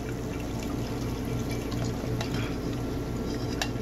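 Hot oil poured through a metal strainer: a steady liquid pour with a faint bubbling sizzle and light clinks of metal, continuous and close, with no speech.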